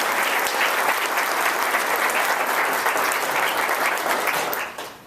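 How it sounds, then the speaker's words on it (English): Conference audience applauding at an opening session, dense sustained clapping from a large crowd that holds steady and then fades out at the end. "So if we could, I'd like to applaud."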